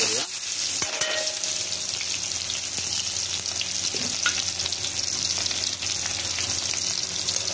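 Onion with cumin seeds frying in hot oil in a wok, giving a steady, loud broadband sizzle with a few faint clinks, continuous throughout.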